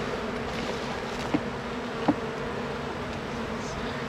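Honey bees from an open hive, chasing hive beetles into the corners of the bottom box, hum steadily at moderate volume throughout, with a couple of brief knocks breaking the drone.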